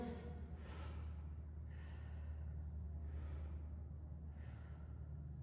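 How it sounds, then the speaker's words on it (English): Slow, deep breaths in and out repeat in a steady rhythm during a full-body mat Pilates workout with props, with each long airy exhale fading under a low constant hum. "Big breath, release. Big breath, release."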